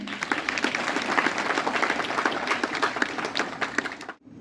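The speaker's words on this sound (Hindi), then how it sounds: "सभी सम्मानित अतिथियों एवं स्पोर्ट्स साइकिल के लिए जोरदार ताली" Enthusiastic applause for honoured guests at a youth sports event in India, dense clapping from a large audience filling the whole span, steady and loud before cutting off abruptly at the end.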